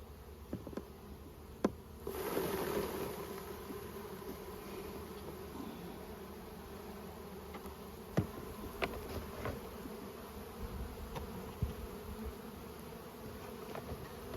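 A dense, steady buzzing of a couple of hundred honeybees shaken into a tub fills the space close by, with occasional sharper knocks and thumps standing out over the hum.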